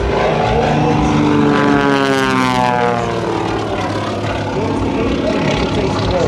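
A propeller aerobatic airplane roars loudly overhead at a 2009 air show in Hampton Roads, performing a precise four-point roll, its engine pitch sweeping and shifting as it maneuvers, with an announcer talking over the noise.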